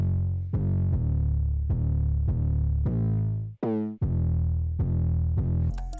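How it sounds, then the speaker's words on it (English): Distorted 808 bass from a hyperpop kit, booming in repeated long, decaying notes at a steady rhythm, loud and close, with a short pitch-dropping slide partway through and nothing else around it. "And then I made the 808 sound like this."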